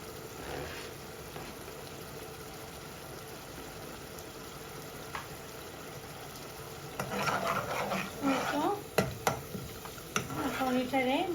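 Green chilies being stirred in a frying pan, a low sizzle throughout with louder scraping and clanking stirring strokes near the end, some faint voice in the background.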